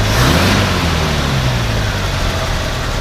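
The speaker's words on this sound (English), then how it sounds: "Go ahead and rev it up a little bit." A 1955 Buick Century estate wagon's 322 Nailhead V8 runs loud and close, its pitch sliding upward early as it revs, then settling into a steady, smooth drone.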